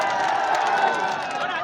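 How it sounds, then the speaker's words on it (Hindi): A large outdoor crowd at a Banjara community gathering at Indore's Phooti Kothi crossroads claps and cheers loudly, a dense, continuous wash of applause for the whole short stretch. "उन दोनों के लिए भी जोरदार तालियों से स्वागत करें"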